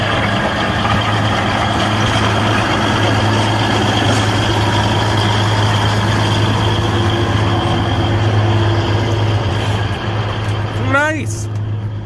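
A tractor fitted with a big snow blade rolls snow toward the middle and back. A steady, loud engine drone runs throughout with a low constant hum.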